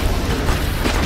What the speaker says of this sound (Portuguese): acertar aqui o peito dele, explosão.